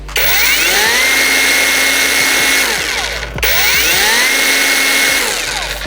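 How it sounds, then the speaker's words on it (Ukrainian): A PROCRAFT cordless battery chainsaw runs loud and close, its motor whining at a steady high pitch that drops briefly midway before revving back up, with no talk over it. "якось грубіше, мені здається, працює дана пилка"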